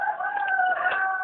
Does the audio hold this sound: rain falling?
no